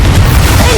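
A brief, loud, deep boom from an Expulso blasting spell in the game Hogwarts Legacy, with a heavy low-end burst and rumbling crash, up close.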